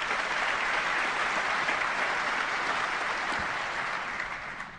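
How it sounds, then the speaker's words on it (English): Steady round of applause from a large crowd at a professional snooker match, sustained and even across the whole span, easing off slightly at the end. "A nice round of applause there from a very knowledgeable crowd here"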